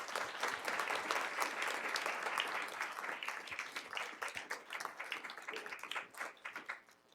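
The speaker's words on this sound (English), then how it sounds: "Round of applause." Steady applause from a sizable crowd at a board of education meeting, dense clapping that holds strong and then gradually thins toward the end.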